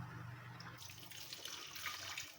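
A cup of water pours into jaggery in a clean cooking pot, a steady close splashing stream of liquid with no talk.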